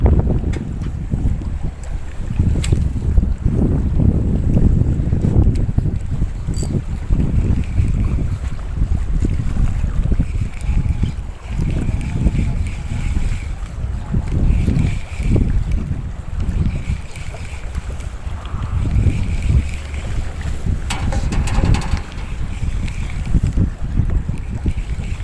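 Strong wind buffets the microphone on a fishing boat out at sea off the Abu Dhabi corniche, a steady roaring rush with gusty surges throughout and no talk.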